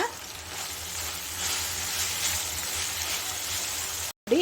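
Mint and coriander leaves fry for tomato rice in a pan, giving a steady, close, loud sizzle that holds evenly throughout before cutting off briefly at the end.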